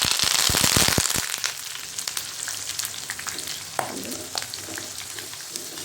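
Curry leaves tossed into hot oil while frying spiced corn burst into a loud, dense crackle of sharp pops, then settle into a steady, softer sizzle with scattered spits.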